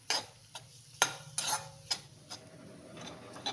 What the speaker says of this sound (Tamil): ஸோ முந்திரி பருப்பும் ஒரு பாதி தேங்காயும் நான் நல்லா செவக்க வறுத்து எடுத்துக்கிறேன்.